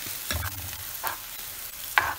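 Tamarind mixture bubbling and sizzling in a pan with a few scraping stirs, close and moderately loud, no talking.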